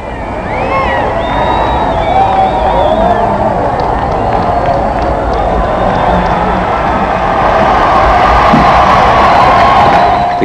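A huge crowd at the 1981 royal wedding roars and cheers a welcome, a steady, dense wall of distant voices with occasional whistles, sustained throughout.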